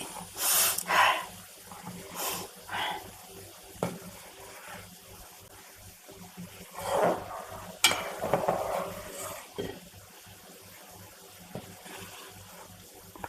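Medicinal hair oil containing water bubbles and sizzles steadily in a pot over low heat, with crackling bursts and occasional louder pops over a low, even hiss.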